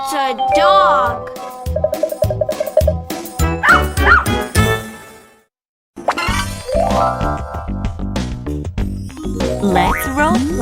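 A cartoon dog barks and yips in a quick, bright series, mixed with springy boing and chime effects, a short silent gap, then more playful barks and sound effects.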